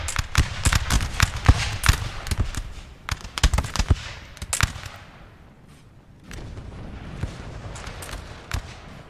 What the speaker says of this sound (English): You can see these Frenchies in their crisp uniforms firing volleys.